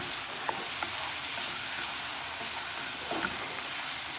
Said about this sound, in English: Let it fry up a little bit to get the flavor with tomato.